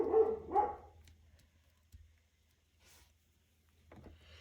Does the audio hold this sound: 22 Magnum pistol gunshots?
no